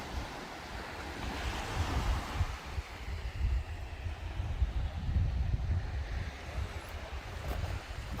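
Sea waves wash onto a beach on the Moray coast near Lossiemouth, a steady roar of surf mixed with gusting wind buffeting the microphone, with no talking.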